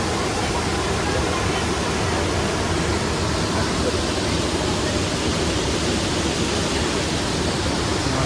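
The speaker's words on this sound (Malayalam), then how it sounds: "ആ കുഴിയിലോട്ടാണ് ഈ വെള്ളം വന്ന് വീഴുന്നത്." Kallar Meenmutty waterfall pours with force into a deep pool, a constant close roar of rushing, splashing water that fills the whole span without a break.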